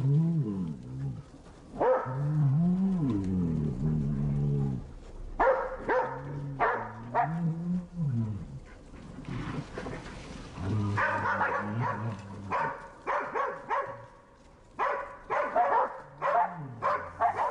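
Bear hunting dogs on a brown bear hunt bark, howl and whimper in a series of loud, drawn-out calls, several overlapping in bursts with short pauses between them.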